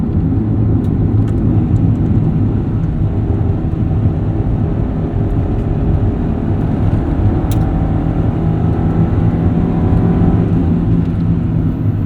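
A 1995 Honda Civic Si with a VTEC engine drives along, its engine and road noise forming a steady, close, humming drone from inside the cabin with no voices.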